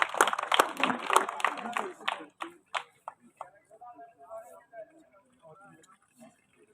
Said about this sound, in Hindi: इसे जोरदार तालियों से स्वागत किया जाए सर।